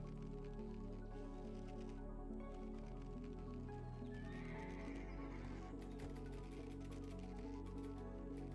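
A video-game horse neighs and whinnies during horse catching, with hoof clops and soft squishing steps over steady background tones, close and clear with no talking.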